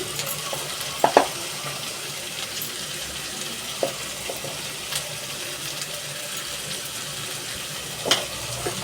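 Egg and prawn curry frying in a pan gives a steady, close sizzling hiss, broken by a few sharp pops and clinks.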